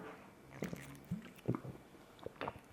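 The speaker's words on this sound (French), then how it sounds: "Je bois une gorgée." A person sips a drink close to a microphone placed under the throat, producing soft wet mouth clicks, slurps and gulping swallows in a few scattered bursts, quiet and intimate, with no talking.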